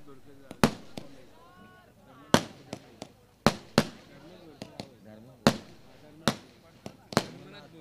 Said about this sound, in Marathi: ये देखिए फटाकों की आतिशबाजी